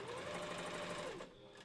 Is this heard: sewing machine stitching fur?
yes